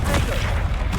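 A Bombarda spell detonates in the video game Hogwarts Legacy as a short, loud, booming burst with a rough, rumbling tail, heard alone.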